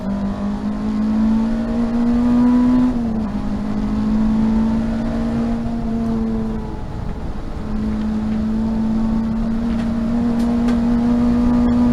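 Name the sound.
race car engine accelerating through a chicane at Thruxton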